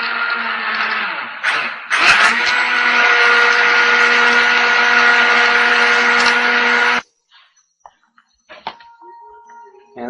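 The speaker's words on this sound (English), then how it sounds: "In goes the old handheld blender." Handheld blender whirring loudly in a cup of aloe and spring water, a short burst then a steady high-pitched motor whine for about five seconds before it cuts off, leaving faint clicks and handling noises.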